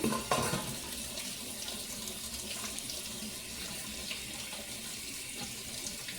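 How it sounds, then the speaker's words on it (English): Tap water runs steadily into a kitchen sink as mushrooms are rinsed, a continuous close splashing hiss with a few brief clatters near the start and no voices. "I'm going to rinse my mushrooms"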